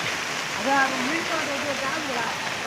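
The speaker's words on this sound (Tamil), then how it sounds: "ஊர் உள்ளே வந்தாச்சு தண்ணி ஃபுல்லாக" Floodwater rushes steadily through a village, a broad loud continuous wash like a fast stream; a faint voice briefly rises over it.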